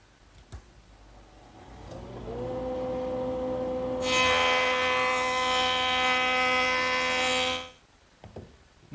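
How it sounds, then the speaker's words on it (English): A power planer works the edge of a curved wooden rail: the motor whines up to speed, then a bright, loud cutting roar holds steady for several seconds before it winds down and stops. "Now I'm just going to plane the edge that I just scraped."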